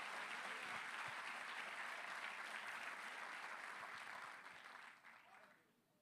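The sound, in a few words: congregation applauding in church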